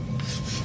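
Writing forms by itself on a kitchen slab with a short, eerie rasping scratch, a dry filing-like rub lasting under a second, close and alone.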